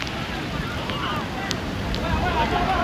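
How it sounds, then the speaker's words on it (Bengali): Big, rough sea waves roll and crash on Cox's Bazar beach after days of heavy rain, a constant loud wash with gusty wind buffeting the microphone. "অনেক বড় বড় ঢেউ।"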